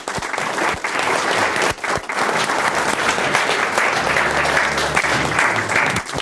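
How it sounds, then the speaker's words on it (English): A live audience breaks into loud, sustained applause for a volunteer being called up on stage, dense clapping continuing for several seconds with a few brief dips and faint crowd murmur underneath. "Let's have a big round of applause."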